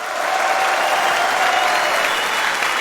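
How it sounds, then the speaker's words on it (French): A comedy club crowd applauds loudly for a relative of the performer in the room, a steady, dense burst of clapping filling the whole stretch without any speech. "Applaudissez-le fort."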